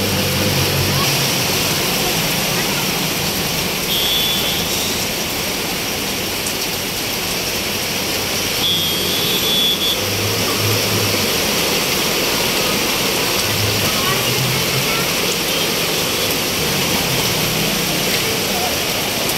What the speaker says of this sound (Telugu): అలల్లాగా వస్తున్నాయి కాళ్ళ దగ్గరికి వాటర్